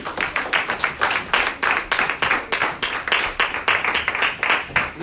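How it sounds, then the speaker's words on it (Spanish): A church congregation claps in a fast, steady rhythm for about five seconds, loud and close with sharp even beats and no talking over it. "Denle un aplauso a su Rey."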